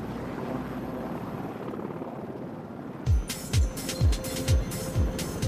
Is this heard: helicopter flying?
yes